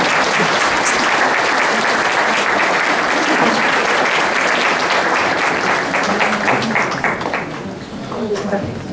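Audience applause at a lecture event in Japan, sustained and loud clapping from a large crowd filling the full length, tapering slightly near the end.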